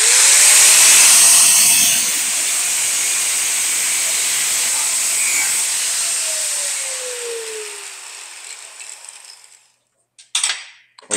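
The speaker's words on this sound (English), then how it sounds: "let's get this spark plug cut" A cutting tool slices through a spark plug taken from scrap parts, a loud continuous hissing grind that slowly fades, then stops with a few short clanks at the end.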